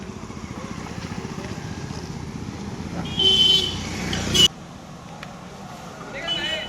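A new family car on a trial run, its engine humming steadily nearby while people talk over it, with a brief louder burst and a short horn-like tone partway through before it quiets.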